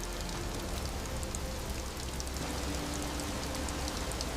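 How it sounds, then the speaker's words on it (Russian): Heavy rain falling, a steady dense wash of drops that stays even and moderately loud throughout with no talk. "Идут сильные дожди."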